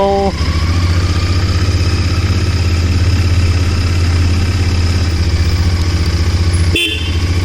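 A motorcycle engine runs with a steady low rumble while riding slowly, loud and close throughout, with a brief horn-like tone near the end.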